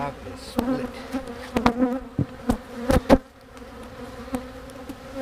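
Honey bees buzz around a freshly split beehive, a steady droning hum broken by sharp knocks and thumps of handling nearby.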